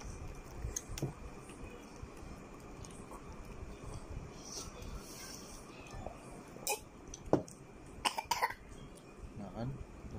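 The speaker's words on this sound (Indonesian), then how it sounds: "batuk sudah" A child coughs while eating grilled fish: a few short, sharp coughs over a low, noisy indoor background, with quiet voices talking nearby.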